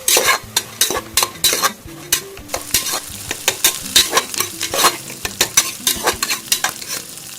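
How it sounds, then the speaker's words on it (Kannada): Vegetables and lentils being stirred and sautéed in hot oil in a pan, with steady sizzling and repeated scraping and clinking of a utensil against the metal, close and loud. "ಚೆನ್ನಾಗಿ ಈ ಥರ ಬಾಡಿಸ್ಕೊಳ್ಳಿ ಎಣ್ಣೆನಲ್ಲಿ"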